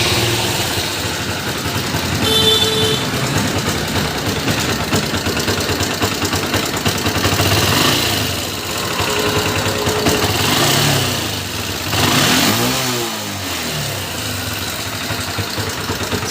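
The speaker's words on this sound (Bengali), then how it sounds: "হন্ডা ইউনিকর্ন ইঞ্জিনের সাউন্ডটা প্রচণ্ড খারাপ হয়ে" A Honda Unicorn motorcycle engine idles steadily with a rough mechanical rattle from a worn timing chain and rocker, the hum continuous and close, swelling briefly near the middle and again toward the end.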